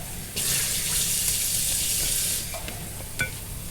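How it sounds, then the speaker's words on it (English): Vegetables and pak choy tops being stirred in a hot pan, a brief burst of sizzling and scraping that settles into quieter frying with a few light utensil clicks near the end. "Again, another little stir."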